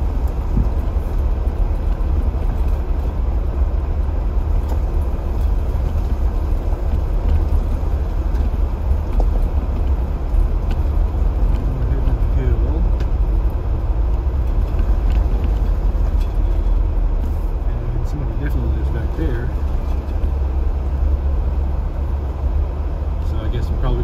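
A vehicle rolling along a gravel road gives a steady low rumble and crunching tire noise throughout, close and continuous, with someone talking at intervals over it.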